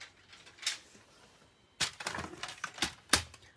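Cardstock is trimmed for a handmade card, giving a few close, sharp cutting clicks and slides of a paper trimmer with short pauses between.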